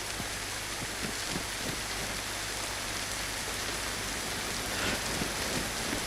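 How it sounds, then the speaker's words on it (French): Steady rain pours in the DayZ video game, a dense, even hiss of droplets that fills the scene at constant loudness, with no voices. "Bon bah maintenant il pleut."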